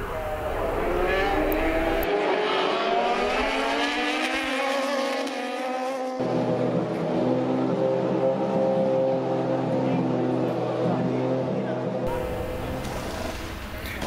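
An LMP1 prototype of the Swiss-based Rebellion team passes at Le Mans on test day, its engine a loud, sustained high-revving roar that climbs and shifts pitch through gear changes, close and continuous for the whole stretch.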